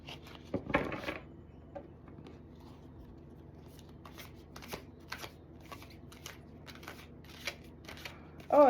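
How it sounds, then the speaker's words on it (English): A deck of tarot cards is shuffled quietly up close in a string of soft riffles and flicks with small pauses between them, and a louder burst comes at the very end. "Let's see if I can actually shuffle them though."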